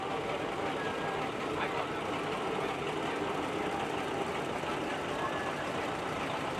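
A 1949 John Deere A tractor engine runs steadily at an outdoor steam show, giving a loud, continuous, broadband mechanical drone with no clear breaks.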